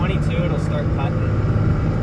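Steady low road roar from the tires of a Cummins-powered pickup truck, heard from inside the cab while accelerating in second gear, with brief voices over the continuous rumble.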